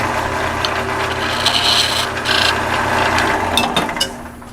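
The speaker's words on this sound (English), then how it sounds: "I'm going to taper this back a little bit." A wooden handle for a tenon cutter is tapered by hand, giving close, loud rasping scrapes in uneven bursts with brief pauses between strokes.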